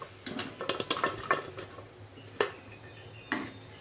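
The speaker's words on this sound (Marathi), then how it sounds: "आता जे आपले चणे आपण कुकरमध्ये शिजले होते ते त्याच्यामध्ये ॲड करून घेऊया" Cooked chickpeas tipped into a pan of hot oil, heard as a quick cluster of clattering utensil knocks and scrapes, followed by two more isolated clinks against the pan.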